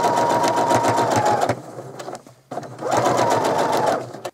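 A sewing machine stitches an egg pocket onto a child's apron in two steady bursts of fast whirring and needle chatter, close and loud, with a short pause between them.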